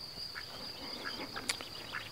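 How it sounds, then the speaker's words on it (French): Crested ducklings peep in short, high chirps scattered over a steady insect-like hum, soft and fairly close, with no talk. "12 petits canards à pompons"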